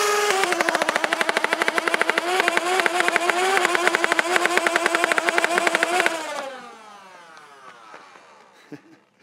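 A motorized toy Nerf gun fires in a rapid, continuous buzzing burst for about six seconds, then winds down as the motor spins to a stop, loud and close with no talk.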